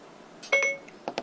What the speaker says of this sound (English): See, it beeps because it responds on that.